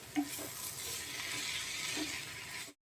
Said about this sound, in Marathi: असा आपला तेलावर परतूया.